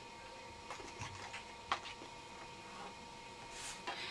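Scoring a paper card along a ruler: faint, soft scrapes and light taps close by, spread across a quiet, steady background hiss.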